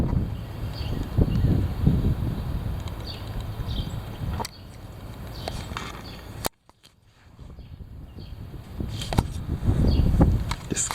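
Heavy wind blows outdoors in low, rumbling gusts against the microphone. There is a sudden cut to near quiet partway through before the buffeting returns strongly.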